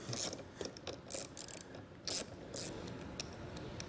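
A ratchet fitted with a 10 millimeter socket removes a nut during installation of a battery charge line kit on a towed vehicle, giving several short, uneven bursts of close clicking with brief pauses.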